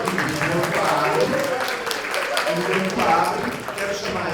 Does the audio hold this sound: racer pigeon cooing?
no